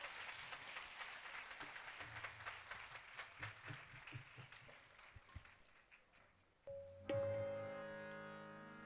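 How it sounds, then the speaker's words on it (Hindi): Audience clapping at a gospel tour church meeting in India, a sustained burst of many hands clapping fairly near, fading over several seconds before a brief musical tone and chord take over. "एक बार अपने लिए ताली बजाओ"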